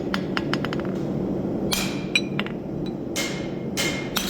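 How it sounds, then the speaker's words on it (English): Sharp metallic hammer strikes ring out on an anvil corner as a mark is punched into the end of a bar horseshoe, a quick run of close taps followed by several louder, spaced clangs over a low workshop hum. "I'm gonna come over on a sharp corner on the anvil and just put a little mark up on end"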